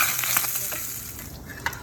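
Close, crackling sizzle of pork ribs frying in hot fat, with small pops and a brief stirring scrape, continuous and bright.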